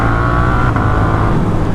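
A loud Suzuki GSX-8S motorcycle engine with an aftermarket exhaust drones close up, its deep throaty exhaust note holding steady with a slight rise in revs.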